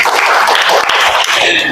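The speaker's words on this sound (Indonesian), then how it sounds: "Tepuk tangan." Classroom applause from students, a dense steady patter of many hands clapping together at close range, filling the whole moment without a break.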